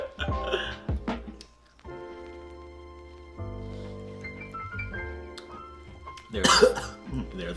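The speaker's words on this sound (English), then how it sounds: "Made me cough a little." A person coughing after a sip of tequila, a few short sharp bursts near the start and a louder rasp near the end, with speech in between.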